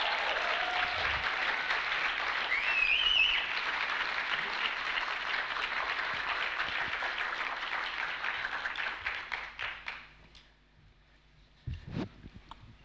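A theatre audience applauds as actress Samantha Morton is welcomed onto the stage at a Power of Film event, steady sustained clapping that thins out and fades toward the end, with a few isolated late claps.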